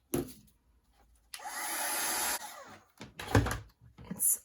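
A heat tool blows hot air over a stamped Christmas craft tag, giving about a second of steady whooshing hiss between quiet stretches and a few soft handling knocks.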